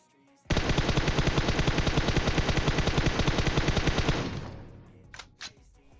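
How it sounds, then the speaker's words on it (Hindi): A long, rapid burst of automatic gunfire in PUBG Mobile, loud and close, fires continuously for about four seconds, then fades into a couple of faint trailing shots. "फिर से गोलियां चलाता हूँ बहुत सारी गोलियां लगती हैं"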